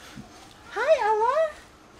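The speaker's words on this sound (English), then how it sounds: "You hear Ella meowing in the back?" A cat named Ella gives a single drawn-out, wavering meow in the background, clear but moderately quiet, with a brief faint sound just before it.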